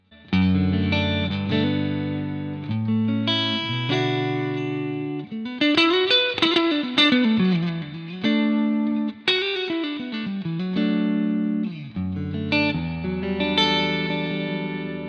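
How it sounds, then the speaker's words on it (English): Clean electric guitar with a bright, glassy single-coil Fender-style tone on the neck pickup plays chords and bending melodic lines, close and alone, with a touch of shimmer. "I've just got like a clean Fender sound"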